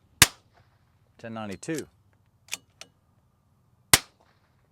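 Rimfire .22 rifle fired for NRL22X and PRS Rimfire matches, two sharp single shots several seconds apart, with a voice calling out numbers in between.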